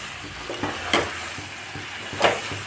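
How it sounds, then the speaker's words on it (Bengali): Spice paste being stir-fried with meat over a high gas flame, a steady sizzle broken by a few sharp spatula scrapes against the pan, close and unaccompanied by talk. "এবার এই পেস্টটা আমি এর মধ্যে দিয়ে ভালো করে কষিয়ে নেব।"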